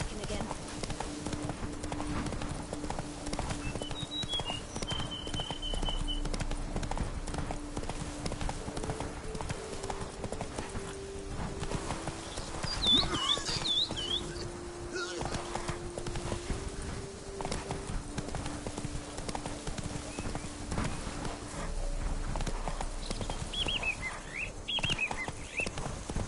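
Hoofbeats of Geralt's horse Roach galloping through The Witcher 3, a steady clip-clop rhythm running the whole time under game ambience, with occasional wing flaps and a voice speaking over it.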